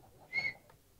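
A single short, sharp whistle rises from the audience at a Telugu movie audio launch, brief and fairly faint against a quiet hall, with no talking over it.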